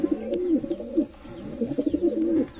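Lal Jiriya pigeons coo close by in repeated soft, throaty bursts, two clusters of low warbling calls separated by a brief lull.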